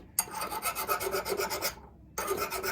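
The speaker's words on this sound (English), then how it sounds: "There's just a little ring of carbon deposit right there I'm trying to get rid of." A ring of carbon deposit is scraped off a valve from a Harley flathead engine, heard as a steady, close, harsh rasping that runs for over a second, then stops briefly and starts again.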